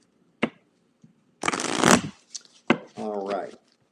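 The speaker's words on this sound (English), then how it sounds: "I am shuffling, shuffling, shuffling, shuffling." Tarot cards being shuffled up close, a few quick riffles and slaps in bursts separated by short pauses, with a brief voice sound near the end.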